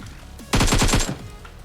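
A rapid burst of about six automatic gunshots during a firefight in PUBG Mobile, close and sharp in quick even rhythm, with quiet moments before and after.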